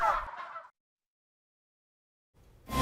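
A turkey gobbles loudly in a short rattling burst, stops for nearly two seconds, then starts gobbling again.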